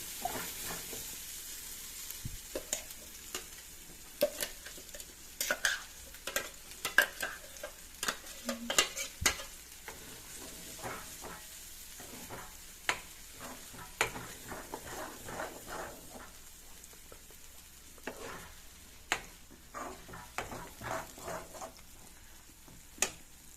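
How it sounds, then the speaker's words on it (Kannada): Raw mango chutney bubbling in a pan, a quiet simmer with scattered soft pops and ticks over a faint hiss, close but low in level and without speech. "ಇದು ಚೆನ್ನಾಗಿ ಕುದಿಬೇಕು"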